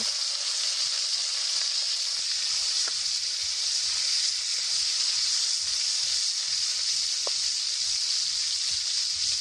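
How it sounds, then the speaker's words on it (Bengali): Two fish heads frying in hot oil with panch phoron in a wok, giving a loud, steady, continuous sizzle and hiss that holds throughout, with a couple of faint clicks. "এবার আমি মাছের মাথা দুটো এর ভিতরে দিয়ে ভালো করে ভেজে নেব"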